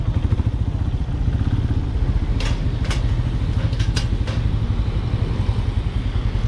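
A Benelli Imperiale 400 motorcycle engine thumps steadily at low revs through a U-turn, its rhythmic single-cylinder pulse close and loud, with a few brief clicks on top.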